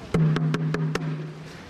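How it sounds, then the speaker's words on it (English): A shime taiko, a small Japanese drum tuned tight and high, is struck five times at an even pace, each hit ringing with a sustained tone that lingers and slowly decays. "They're ostensibly the same drum, but they're just pitched, they're tightened differently."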